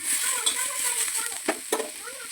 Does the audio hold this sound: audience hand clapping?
no